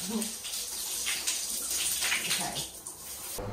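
Shower water runs steadily in a home bathroom, a close, continuous hiss and splash throughout, with a person audible faintly under the spray.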